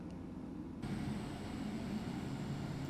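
Aircraft engines spool up to full power in Microsoft Flight Simulator 2024, a steady broadband roar that jumps louder partway through and then holds as a continuous, even drone with no voices.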